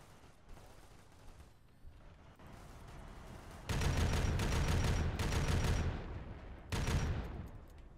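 Sustained bursts of automatic gunfire in a space marine battle game, loud and dense, with a lull before heavy firing sets in and a final short burst.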